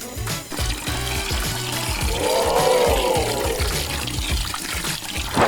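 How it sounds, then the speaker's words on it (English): Water pumped by a small toy pump into a LEGO swimming pool, a steady close pouring and trickling stream with a light rhythmic mechanical whir underneath, continuous throughout. "Pump water into the pool."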